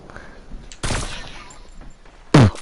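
A Fortnite headshot: a sharp, loud gunshot burst near the end after a quieter shot earlier, standing out over faint background game noise.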